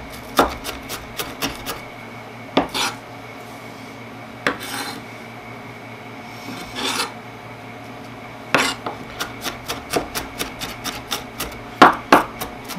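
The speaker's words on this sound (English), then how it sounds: "we want to try to chop this really finely as well" A knife finely chops onion for guacamole, with close, crisp taps against the board coming in quick clustered bursts separated by short pauses, growing denser toward the end.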